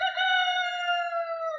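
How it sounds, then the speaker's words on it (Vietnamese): A rooster crows loudly at 3 a.m., rousing a sleeping household: one long, sustained, clear crow, close and alone with no other sound. "cả nhà bị đánh thức bởi tiếng gà kêu lên inh ỏi"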